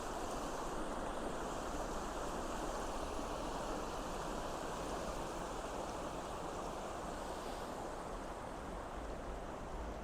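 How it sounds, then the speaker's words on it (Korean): Water flows steadily along the artificial Cheonggyecheon stream in the middle of a big city at dawn, a continuous broad rushing wash that stays even and fairly soft for the whole stretch, with no voices. "물소리가 되게 좋아요."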